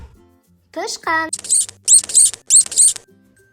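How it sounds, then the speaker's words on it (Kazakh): A mouse squeaks in a quick series of high, thin chirps, loud and close, with a couple of brief lower squeals at the start. "тышқан"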